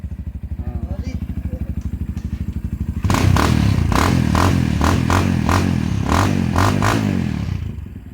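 A motorcycle engine idles with steady low pulsing, then revs up loudly, with rhythmic sharp bursts and rattling over the running engine; someone talks over it.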